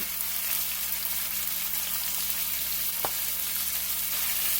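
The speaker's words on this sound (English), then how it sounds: "the meat is just so thin, you just lift it up and put it right on in the pan, like so" Thin steak slices sizzle steadily in a hot pan, a continuous close frying hiss with one brief clink partway through, no talking.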